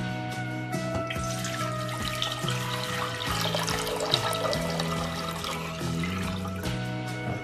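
Water pours steadily into a pan for refrigerator dill pickle brine, a continuous close trickling and filling sound in a kitchen with no talking.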